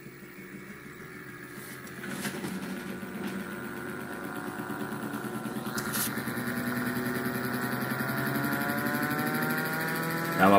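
A hand-built axial flux brushless DC motor spins up to about four amps on a bench power supply, its whine and buzzing harmonics climbing steadily in pitch and loudness after a couple of switching clicks.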